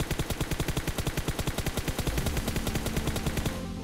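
Rapid automatic gunfire from a scoped gun in a shooting video game, loud evenly spaced shots hammering in a steady stream for over three seconds, then cutting off abruptly at the end, with no talking.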